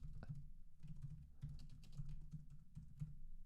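Steady, quiet typing on a computer keyboard while writing data into a text file, with a close, rapid patter of key presses and no speech.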